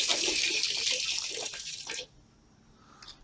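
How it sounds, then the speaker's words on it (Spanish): A laundry-area tap at a house runs with a steady, fairly loud rush of water for about two seconds, then shuts off abruptly, leaving quiet room tone and a faint high trickle. "Vamos a abrir la llave para que miren."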